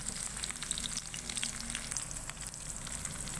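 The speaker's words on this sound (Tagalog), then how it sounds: "magisa na tayo ng sibuyas at saka bawang" Onion and garlic sauté in a pan, a soft, constant frying crackle with faint pops, close and fairly quiet, with no talk.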